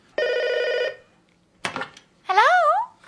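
A roadside phone box on a British motorway rings with a loud, close electronic tone in short separated bursts, the last one warbling up and down.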